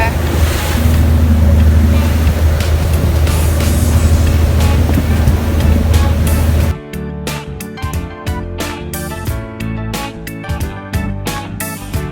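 A boat crosses the sea off Koh Chang toward a diving spot with a loud, steady rush of engine and water. After about seven seconds the rush cuts off abruptly, leaving quieter rhythmic sounds.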